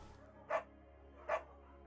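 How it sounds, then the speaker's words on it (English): Two short, clear barks from a beagle in the video game Firewatch, evenly spaced about three-quarters of a second apart over quiet background ambience, with no speech. "We go with the beagle."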